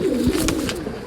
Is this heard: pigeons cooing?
yes